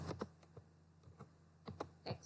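Keystrokes on a computer keyboard while entering commands in a command prompt, about eight distinct clicks in uneven groups, close and fairly quiet over a low steady hum.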